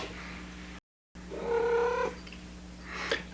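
A cat gives a single drawn-out meow in a quiet room, close and fairly clear, with a faint hum underneath and a short break of silence just before it.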